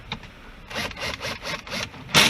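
A small cordless drill tightens screws during a car amplifier and subwoofer install in a 2014 Chevy Cruze. It gives a series of short, rhythmic grinding bursts close by, ending in a sharper whir.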